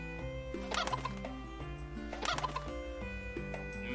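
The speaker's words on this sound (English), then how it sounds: "Mini chickens everywhere." Small chickens clucking in the video game Evoland 2, two bursts of bird calls over a looping melodic game tune with a steady low hum underneath.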